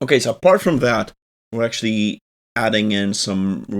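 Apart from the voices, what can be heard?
No distinct noise like a dog, phone or traffic.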